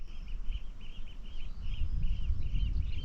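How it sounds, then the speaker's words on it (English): Faint bird calls repeat in short, regular chirps over a soft, low outdoor rumble in the wilds of Jura, Scotland. "Just birds singing."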